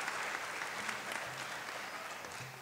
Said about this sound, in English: A round of applause for Aaron, please.